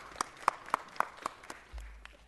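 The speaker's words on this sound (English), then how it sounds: "let's give Matt a round of applause" At a city council meeting, an audience gives a short round of applause: a handful of sharp, separate claps spaced almost evenly, close and fairly faint, fading out after about a second and a half.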